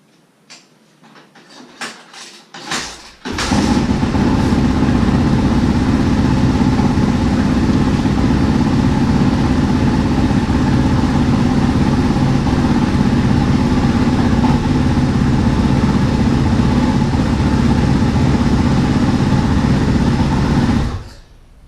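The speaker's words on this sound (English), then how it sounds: "Now that you got your spark plug changed, you're going to want to warm up your engine" After a few sputtering kicks, a Kawasaki KX450F four-stroke single-cylinder dirt bike engine fires up after a spark plug change and idles loudly and steadily at close range, then shuts off.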